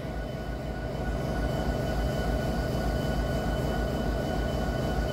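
CSX freight locomotive rolling along railroad track at Point of Rocks gives a steady, loud rumble with a constant droning hum that holds unchanged throughout.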